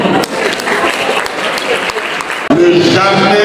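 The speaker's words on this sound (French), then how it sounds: "Il faut applaudir pour lui." Loud, sustained applause from a crowd at a thesis defense, continuous clapping that briefly dips near the end and then swells again.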